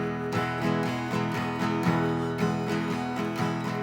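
Fast acoustic guitar strumming in a 1-6 strum pattern, with a steady, brisk rhythm of repeated strokes played close and alone, without any voices.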